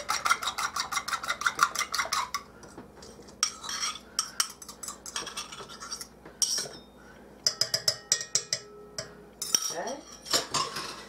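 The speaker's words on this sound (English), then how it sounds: "I'm going to mix up my egg a little bit" An egg is beaten in a bowl with a utensil for dinner rolls, making fast rhythmic clinking and scraping strokes that come in bursts with short pauses between them, close and fairly clear.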